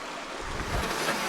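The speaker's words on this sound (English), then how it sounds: "So now we have the river Río Válor on our left." Río Válor river flowing beside a hiking path in the Alpujarra, Andalusia, heard as a steady broadband rush of water, close and continuous, with a slight swell toward the end and no talk.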